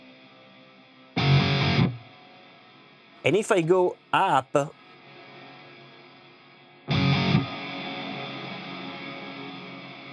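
An electric guitar played through the Aurora DSP Kobraa crunch amp plugin, modeled on a Framus Cobra, with reverb strikes two gritty distorted chords that ring out in long washy tails, while someone talks briefly between them.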